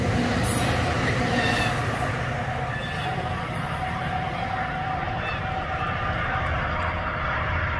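A MARC commuter rail train passes close by, a loud steady rumble of wheels and cars rolling along the track for the whole stretch, with faint wheel squeal on top.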